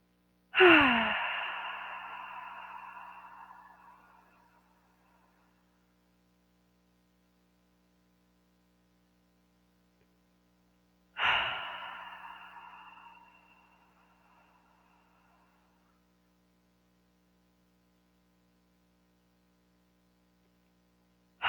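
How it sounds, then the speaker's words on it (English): Slow, deep belly breathing during a guided relaxation session, with two long, soft airy exhales spaced about ten seconds apart. Each breath sounds close and fades gently, with silence in between. "So we're doing deep, slow belly breathing with our attention in the center of our chest."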